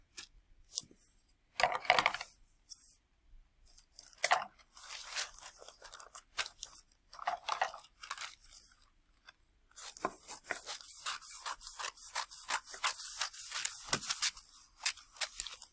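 Scissors cutting candy wrapping paper, close crisp snips and crinkling rustles in irregular bursts, with a denser stretch of rapid paper crackling toward the end.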